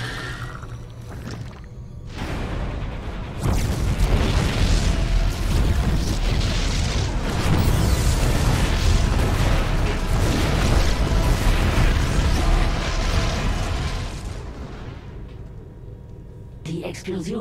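Loud, continuous rumbling blasts and booms fill the scene for over ten seconds, a dense barrage of StarCraft 2: Heart of the Swarm explosions that fades out near the end.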